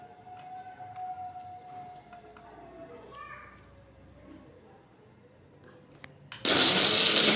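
A mixer grinder grinds a paste for a tendli (ivy gourd) masala curry and starts suddenly near the end with a loud, dense whirring roar, after quieter kitchen noise and children's voices in the background.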